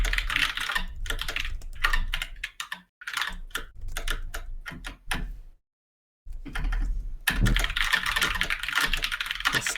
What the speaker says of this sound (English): This isn't going full typing mode.